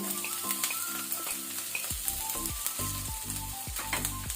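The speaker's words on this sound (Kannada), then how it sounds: "ಈರುಳ್ಳಿ ಪಿಂಕ್ ಆಗುವ ತನಕ ನಾವು ಫ್ರೈ ಮಾಡ್ಕೊಳ್ಬೇಕು" Steady oil sizzle and crackle of frying onions and curry leaves for chicken wings pepper fry, with a few spoon scrapes against the pan, no talking.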